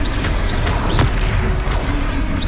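Confringo blasting spell from Hogwarts Legacy, a dense rumbling blast with crackling bursts under a continuous loud battle din, with short whooshing sweeps repeating across the span.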